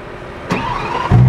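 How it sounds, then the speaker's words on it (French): A V12 car engine starting up, with a rising mechanical whir and then a loud, deep catch into running that swells near the end of the short clip, heard alone without talk. "vais allumer le moteur et je vous laisserai écouter ces beaux bruits de V12"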